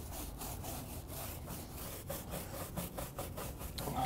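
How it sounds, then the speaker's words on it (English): A stiff plastic brush scrubs the tire of a dirty Ford F250 off-road truck, giving a steady series of rhythmic rasping strokes, fairly quiet and close, with no voices. "then we're gonna use our blue stiffy brush, get the tire"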